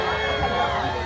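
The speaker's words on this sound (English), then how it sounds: "Cheer him on!" Crowd at a county fair game in Sale Creek, Tennessee, cheering and whooping in a continuous, mid-distance roar of mixed voices, including children, with an announcer's voice mixed in.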